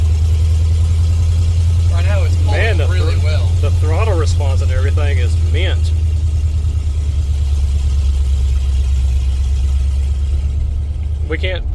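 A truck engine runs steadily just after a used Holley Sniper fuel injection install, a loud constant low rumble throughout while people talk over it for several seconds.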